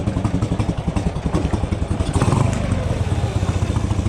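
A motorcycle ridden on the road with a chest-mounted camera, its engine chugging and clattering close by, then revving up as the throttle opens, with wind noise throughout.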